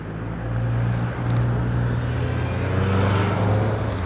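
Cars on a city road pass steadily by a pedestrian crossing, a continuous low engine and tyre rumble rising and falling as vehicles move through, fairly close and loud with no talk.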